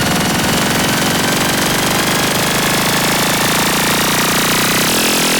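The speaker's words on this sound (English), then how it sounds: "To get away from that droning engine sound" A loud, droning engine from a video game runs steadily and without a break, thick and unchanging, with no voices over it.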